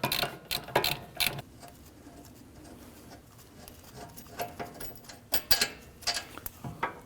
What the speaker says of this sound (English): go ahead and loosen and remove the lower